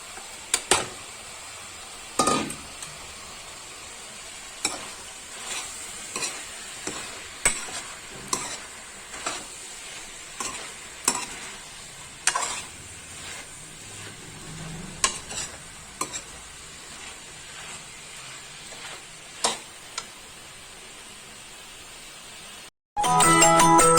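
Onions sizzle in oil in a kadhai while being cooked for kadhai paneer, a soft steady fry broken by repeated sharp clinks and scrapes of stirring, close and with no voices.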